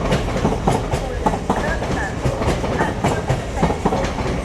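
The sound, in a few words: LNER class 800 train arriving at Doncaster station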